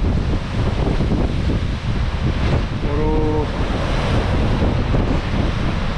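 Heavy surf pounds the shore during a tropical storm in Bermuda, with a constant roar of waves mixed with strong wind buffeting the microphone, and a brief faint tone partway through.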